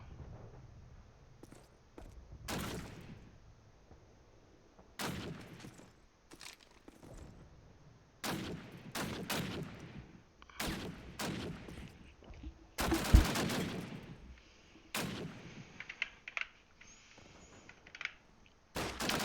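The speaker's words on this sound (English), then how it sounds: "Alex already biting out some shots from Resigner" Gunfire in Call of Duty (CoD1) on the map mp_dawnville during a tournament match: sharp single shots and rapid bursts come at irregular intervals, and a few rounds ring out loudly over quiet background noise.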